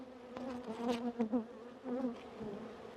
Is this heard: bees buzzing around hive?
yes